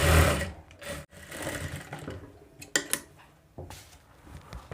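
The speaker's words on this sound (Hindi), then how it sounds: "इसे पलटा के एक प्रेस सिलाई लगा देंगे" A sewing machine runs in short bursts while stitching a boat neck blouse, its close mechanical chatter stopping and restarting with brief clinks of handling in between.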